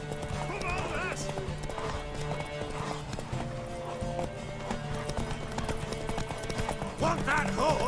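Galloping horse hooves clip-clopping in a race in The Witcher 3 video game, with repeated neighs and whinnies over game music, while voices shout and talk throughout.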